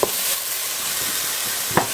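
Mushrooms browning in a hot pan give off a steady, moderate sizzle with a soft scrape or stir near the start and another just before the end.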